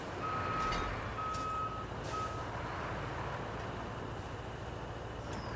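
A truck in the road-building video game RoadCraft sounds its reversing alarm: three steady electronic beeps in even rhythm over a low engine rumble, then the beeping stops while the engine idles on.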